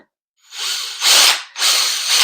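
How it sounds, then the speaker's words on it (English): A power drill drives a Porkinator meat shredder fed with meat chunks, whirring up loudly after a moment of silence in two close bursts with a brief dip between them. "This essentially hooks up to your power drill, and once the meat chunks go in here, you turn this on"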